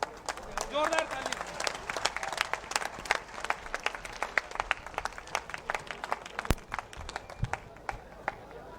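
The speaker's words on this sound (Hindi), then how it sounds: "जोरदार ताली।" A crowd at a BJP political rally in Harda breaks into sustained applause, a dense patter of many hands clapping at moderate volume and continuing throughout.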